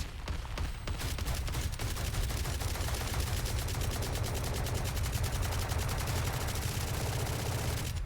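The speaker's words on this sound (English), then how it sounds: "especially with the Odin, which has that increased attack speed the longer you hold it, hold down the fire button" An Odin machine gun in Valorant fires in one long sustained burst, a dense, rapid stream of shots that speeds up as the trigger is held, loud and continuous for the whole stretch.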